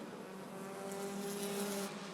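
Race cars battle for position in a Bandit feature at Rockford Speedway, a steady mid-distance engine roar with a rising whine as cars pass, no speech.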